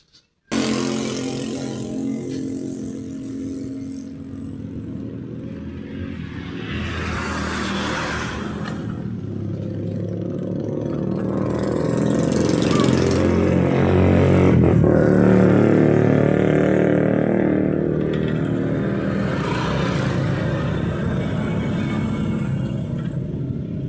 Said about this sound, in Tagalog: Yan yung finish natin na makina ng Honda Click.